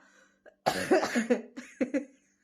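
A single person with a cold coughs several times in quick succession, a harsh close-up burst followed by two shorter coughs, after a brief faint sound.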